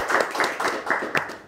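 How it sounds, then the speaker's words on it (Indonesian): A small audience claps for a guest named Cak Ji being invited to join on stage, a loose run of near hand claps in uneven bursts over about a second and a half, with no talk over it. "Boleh tepuk tangan untuk Cak Ji."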